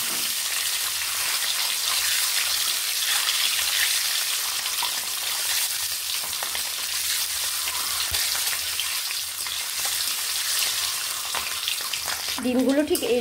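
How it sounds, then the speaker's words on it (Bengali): Eggs fry in hot oil in a wok with a loud, continuous close-up sizzle and crackle, and a brief clatter near the end. "ডিমগুলোকে আমি এইভাবে ভেজে নেব।"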